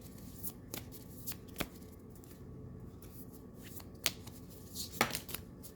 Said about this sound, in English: I was shuffling them incorrectly.